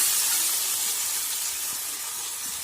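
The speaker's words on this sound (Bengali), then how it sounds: "পরিমাণ মতো জল দিয়ে দিলাম" Water hits a hot pan of fish, giving a loud rushing hiss of steam and sizzle right up close that slowly eases in strength, no talking.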